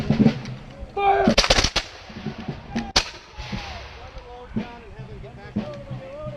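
Revolutionary War reenactors fire a musket volley outdoors, one sharp crashing report near the start and another around three seconds, with drill commands shouted before and between the shots.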